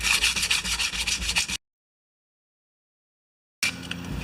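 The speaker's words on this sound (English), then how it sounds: "So I'm going to just keep sanding this up until we're ready to paint." Steady rhythmic sandpaper scraping against a wooden part of a John Deere snow blower, close and fairly loud, cuts to silence for two seconds, then resumes briefly.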